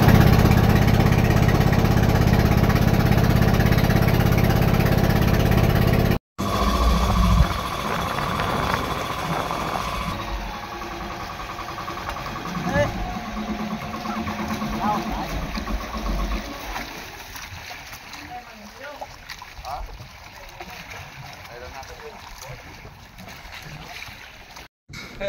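A small fishing boat engine drones steadily with water and wind noise, briefly cutting out near the start and continuing as a low rumble throughout.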